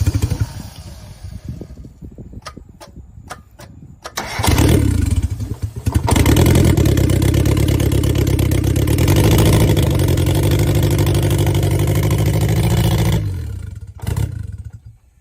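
1990 Mazda Miata that sat for seven years, with a troublesome starter, heard as clicks and a brief crank before the engine catches and settles into a loud, steady idle that cuts off near the end.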